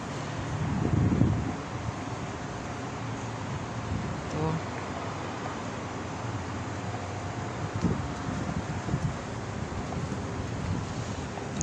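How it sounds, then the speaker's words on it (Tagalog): Wind blows outdoors in Kuwait, buffeting the microphone with steady broadband rushing and a few stronger low gusts, some faint rustling mixed in. "sarap ang simoy ng hangin."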